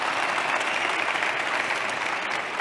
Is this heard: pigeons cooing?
no